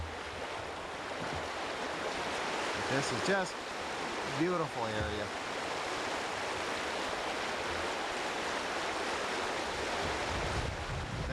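Rushing water from a river rapid system beside a fishing camp in Canada, a steady broadband roar running throughout, with someone talking briefly over it near the start.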